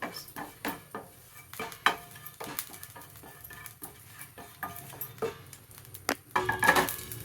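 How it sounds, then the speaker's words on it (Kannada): Poppy seeds roasting dry in a pan while a spoon stirs, making a run of sharp, close scrapes and clinks against the metal at an uneven rhythm, louder clatter toward the end. "ಫಸ್ಟು ಒಂದು 2 ಸ್ಪೂನಷ್ಟು ಗಸಗಸೆ ಹಾಕ್ಕೊಂಡು ಹುರ್ಕೋಬೇಕು."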